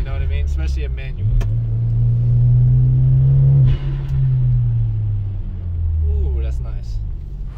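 A 2014 Hyundai Genesis 2.0 Turbo R-Spec coupe with a manual gearbox drones loudly from inside the cabin while driving, the engine pitch rising, dipping at a shift, then climbing again, with a voice briefly heard.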